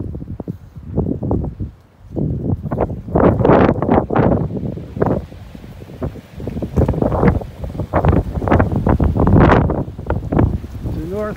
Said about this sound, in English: It's a north wind.